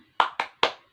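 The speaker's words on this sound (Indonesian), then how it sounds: "Ayo, tepuk semangat." A group of schoolchildren claps in unison, giving three sharp, close claps in quick succession with a short gap before the third, in an otherwise quiet room.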